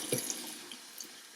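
Running water fills a chitterling bag during rinsing, a soft, close splashing stream with faint drips, heard alone.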